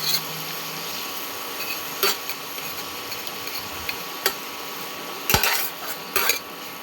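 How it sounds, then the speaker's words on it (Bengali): Spices, including turmeric, are stirred in a pan with ridge gourd and potato, making sparse metallic clinks and scrapes of a utensil against the pan over a quiet background, with a small cluster of knocks near the end. "এবার হচ্ছে এটাকে আবার একটু ভালো করে নাড়াচাড়া করে নেব"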